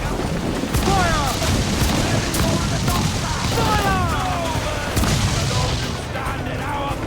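Cannon blasts from sailing ships in Assassin's Creed 4 Black Flag boom repeatedly over a dense, loud battle din, with shouting voices and whistling sounds mixed throughout.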